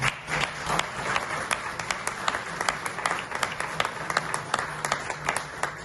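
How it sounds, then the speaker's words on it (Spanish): Applause from an audience at a public accountability session, a fairly quiet room of people clapping with distinct sharp claps standing out over steady background clapping. "Yo quiero que le regalen un tremendo aplauso."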